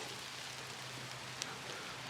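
Steady rain falls across an outdoor disc golf course, a soft, even hiss of drops with one brief tap partway through and no voices.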